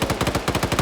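Video game gunfire aimed at an SUV objective vehicle in a multiplayer match, a rapid automatic burst of loud, evenly spaced shots with no talk over it.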